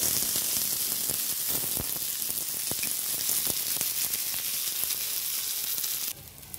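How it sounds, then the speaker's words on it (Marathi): Onion, garlic and ginger sizzle steadily in a pan, a loud continuous frying hiss with occasional stirring clicks before it drops off near the end. "कांद्यासोबत लसूण आणि अद्रक हे छान परतले जातात"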